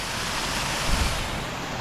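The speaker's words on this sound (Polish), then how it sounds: "na uboczu taka fajna rzecz, no i taki mini wodospadek" A small waterfall on a stream along a hiking route at Diabelski Most in Czerna gives a steady, broad rushing hiss, close and continuous with no voices.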